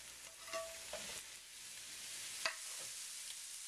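Mushrooms fry in a couple teaspoons of oil in a pan, a quiet, steady sizzle broken by a few sharp utensil clicks and scrapes against the pan.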